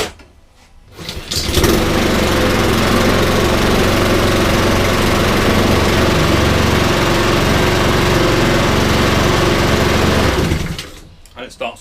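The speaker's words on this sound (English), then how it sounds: "So that's the lawnmower." A small push lawn mower engine, started by pull cord, fires up after a brief pause and runs at a steady, loud drone for several seconds before cutting off abruptly.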